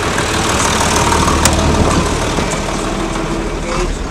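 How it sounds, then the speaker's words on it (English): A truck engine running a pump to load, idling with a steady, dense rumble and broadband mechanical clatter, close and loud throughout with a sharp tick or two on top. "We'll come over here and we'll turn the pump on to load."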